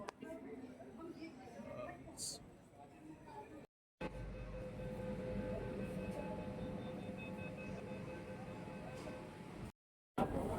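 A Kolkata Metro train at Sealdah station on the Dharmatala to Sealdah route, with a steady low rumble of the train running and station noise, broken by two brief silent gaps, and people talking in the background.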